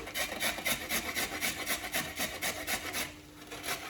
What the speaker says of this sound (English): if you're grating it, use the box part of the grater, the big one